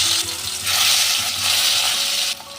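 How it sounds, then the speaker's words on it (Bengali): Rohu fish pieces, sprinkled with salt, fry in hot mustard oil with a loud, continuous sizzle that swells and ebbs, dropping off slightly near the end. "লবণ ছিটিয়ে আমি এই মাছগুলোকে ভেজে নেব"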